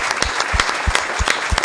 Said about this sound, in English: You should get a hand clap for us